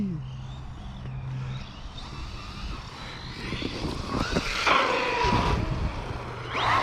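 A Losi Lasernut RC truck on Traxxas Hoss wheels and tires runs at full throttle, its motor whining up and down in pitch over a steady rumble, growing louder and nearer partway through with no talking.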